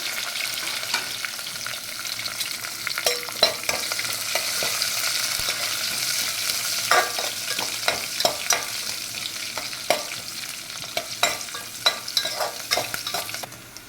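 Cumin, curry leaves and onions fry in a pan for a fish curry, a constant close sizzle punctuated by sharp crackles and stirring scrapes that grow more frequent in the second half.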